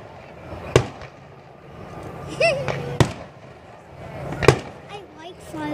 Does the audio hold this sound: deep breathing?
no